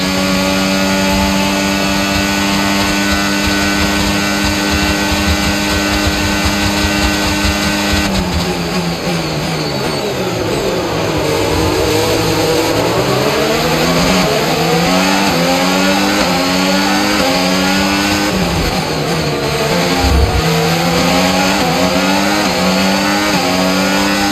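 An F1 25 video game Formula 1 race car engine roars steadily at the Shanghai circuit, its loud, high-pitched whine dropping sharply on downshifts, then climbing through rising gear changes with no talk.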